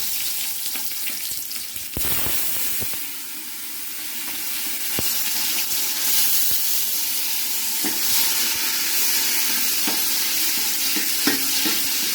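Onion, green chilli and tomato frying in a pan while being cooked for biryani, a steady oily sizzle with occasional scrapes and stirring knocks, close and continuous for about twelve seconds.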